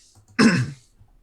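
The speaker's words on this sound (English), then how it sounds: "I'll clear my throat." A single close, gravelly throat clearing lasting about half a second, loud against an otherwise quiet background.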